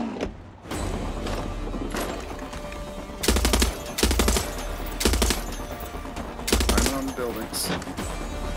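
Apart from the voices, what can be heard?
gunfire in Far Cry 6 video game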